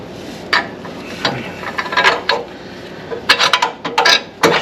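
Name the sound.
tightening motor mount bolt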